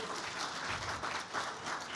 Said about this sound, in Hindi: एक बार फिर जोरदार तालियों के साथ स्वागत कीजिए